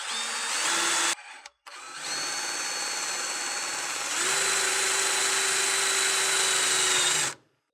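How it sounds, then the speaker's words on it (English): A DeWalt DCD805 cordless drill drives a 1-inch self-tapping screw into a pipe fixed to a pole, whining steadily at speed setting 2, stopping briefly, then spinning up again and rising in pitch under load before it cuts off. "Let's test this cordless drill by putting a self-tapping screw"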